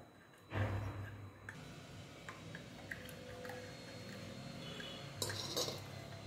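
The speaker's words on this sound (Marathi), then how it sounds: "हे पहा, या प्रकारे हे मिक्स करून घ्यायचं आहे" Lukewarm milk being stirred into custard in a bowl for fruit custard: a quiet wet splash and swirl near the start, followed by faint scattered clinks of a spoon against the bowl.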